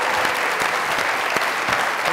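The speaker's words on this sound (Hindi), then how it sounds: "जोरदार तालियां।" Loud applause from a studio audience at a comedy talk show, a thick, steady burst of many people clapping close by, without speech.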